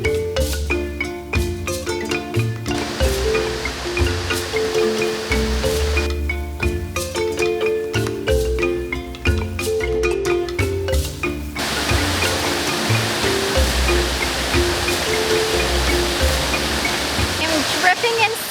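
Rushing water roars at the top of Na Muang Waterfall on Koh Samui, a loud, continuous broadband wash heard alongside music with a steady beat throughout.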